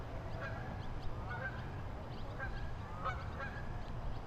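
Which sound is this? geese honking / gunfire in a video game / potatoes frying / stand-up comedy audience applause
geese honking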